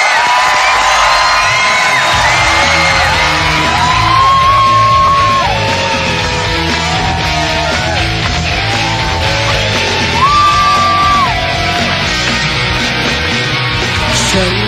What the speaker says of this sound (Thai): ขอเสียงปรบมือต้อนรับ ทั้ง 3 คนสุดท้ายจากเดอะสตาร์ปี5 ครับ